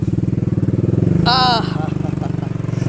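A tubewell pump engine runs close by with a loud, steady low chugging throb. A short high-pitched whine or voice cuts in briefly partway through.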